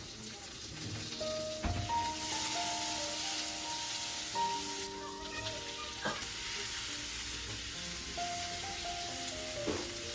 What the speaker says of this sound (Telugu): ఆ తర్వాత ఎండుమిరపకాయలు ఇంకా మిగిలిన కూరగాయలన్నీ వేసేసుకొని బాగా వేయించేసుకోవాలి.